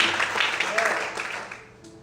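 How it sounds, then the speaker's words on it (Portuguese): A church congregation applauds, a dense wash of clapping that fades toward the end, with voices mixed faintly beneath it. "Você consegue aplaudir ao Senhor?"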